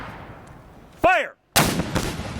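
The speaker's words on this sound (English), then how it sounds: "The Hughes breech-loading cannon could have fired 6 to 8 times per minute" A Civil War Hughes breech-loading cannon fires one loud, close boom that fades quickly, and after a short pause a second heavy blast rolls out and echoes outdoors.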